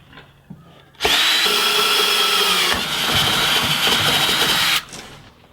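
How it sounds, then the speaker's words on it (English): A small drill bit bores into the steel frame of a Cherokee XJ while a rock slider is fitted, one steady, loud, high-pitched whine of about four seconds that begins and stops abruptly, after a few faint taps. "here's where I'll use the hammer and the punch. Then I'll take that small drill bit and drill that out."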